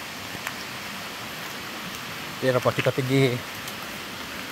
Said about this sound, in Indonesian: Oh, udah hujan loh.